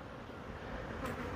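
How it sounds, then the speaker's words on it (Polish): Honeybees fly back to the hive at an apiary as weather worsens, a steady, close buzzing hum of many insects that swells slightly near the end, with no voices. "jak pszczoły się zlatują"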